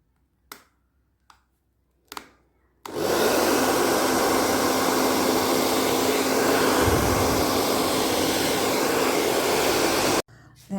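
Air blown onto wet pearlescent fluid art paint, starting from the center and moving upward: a few soft taps, then a loud, steady rushing roar of air that lasts about seven seconds and stops abruptly.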